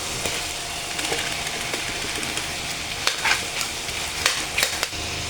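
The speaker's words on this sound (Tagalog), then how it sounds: "Medyo nagmamantika na siya. Lagay natin yung sayote." Chayote pieces frying in hot oil for chicken sotanghon, a steady close sizzle with scattered stirring scrapes and clicks.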